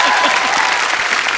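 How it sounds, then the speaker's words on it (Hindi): A studio audience at a Hindi comedy talk show claps vigorously, a loud, continuous burst of dense applause with faint voices mixed in. "ठोको ताली।"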